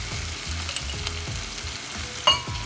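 Diced onions and tomatoes sizzle steadily in hot cooking oil, a close, continuous crackle broken by a few soft stirring scrapes and one sharper clink near the end.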